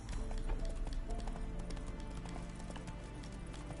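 Roach the horse from The Witcher 3 gallops close and loud, a rapid steady clip-clop of hooves running continuously throughout.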